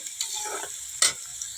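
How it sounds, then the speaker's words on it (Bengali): Potatoes fry in a pan with a soft, steady sizzle, broken by quick scraping stirs and one sharper clatter of the spoon. "দেখো আলুগুলো মোটামুটি ভাজা হয়ে গেছে"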